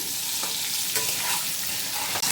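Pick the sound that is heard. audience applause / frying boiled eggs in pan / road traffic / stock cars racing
frying boiled eggs in pan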